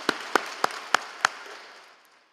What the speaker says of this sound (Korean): 은혜의 말씀을 전해주신 선교사님께 감사의 박수 드리겠습니다